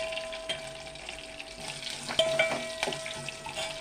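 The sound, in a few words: green chillies, dried chillies, curry leaves frying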